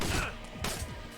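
Gunfire in the Manhunt video game: a few sharp, loud shots burst close by, with a short gap between the first and second volleys and thudding low echoes trailing after each.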